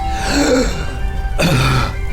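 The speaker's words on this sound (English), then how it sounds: "she coughs up a little blood" Throat-clearing cough sounds in two short bursts close to the mic, one after the other, during a tabletop role-playing game session.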